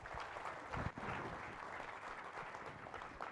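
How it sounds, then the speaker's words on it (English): Audience at a Melbourne business change-makers forum giving a round of applause, a steady, fairly quiet patter of clapping heard at a distance, with no talking over it. "Can we give Annalise a round of applause?"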